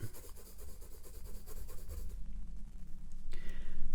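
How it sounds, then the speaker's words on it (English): A lighter graphite pencil scratches steadily across paper in a continuous close rubbing stroke, with a brighter, louder passage of strokes toward the end. "Now I'm going to use a little lighter pencil and working into"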